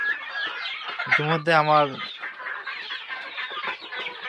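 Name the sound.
desi chickens clucking on a farm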